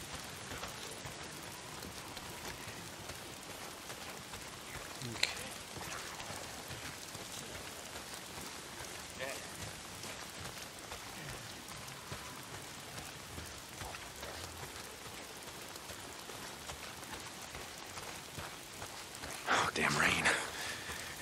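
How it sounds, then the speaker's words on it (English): Steady rain falls in the Days Gone game world, a constant soft hiss of drops across the whole stretch, swelling briefly louder near the end, with a voice speaking now and then over it. "Why is it always raining?"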